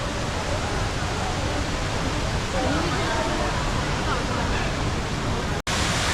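Steady broadband rush of falling water from the Rain Vortex, the tall indoor waterfall at Jewel Changi Airport, filling the space continuously with faint crowd murmur beneath and a brief dropout near the end.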